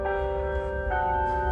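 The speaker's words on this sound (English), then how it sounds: "So this is the clock tower. This is a bell." A bell in a clock tower by a small village near an abandoned Quincy quarry hums with a steady, sustained metallic tone, a lingering ring heard alone at moderate distance.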